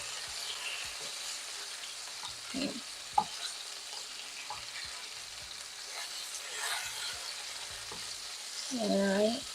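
Chicken frying on a griddle gives a steady soft sizzle with scattered clinks and scraping of a utensil, and a brief louder tone near the end; no one talks.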